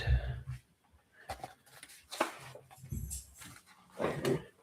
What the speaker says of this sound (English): It's their dog